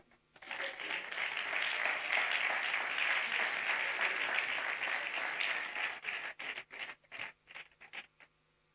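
A church congregation applauds the Lord, a dense burst of clapping that swells, holds, then thins into a few scattered claps at the end.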